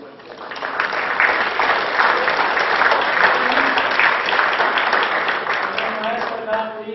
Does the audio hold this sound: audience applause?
yes